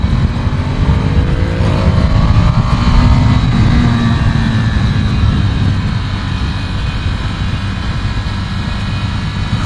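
A Ducati Scrambler Desert Sled motorcycle on a mountain road: loud, continuous engine roar with a rising rev early on, then a steady drone with heavy wind rush throughout.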